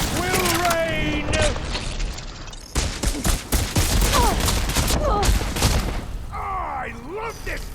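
Heavy cannon fire in the video game Horizon Forbidden West, a rapid string of booming shots and mechanical clatter, loud and close, with voices talking over the barrage.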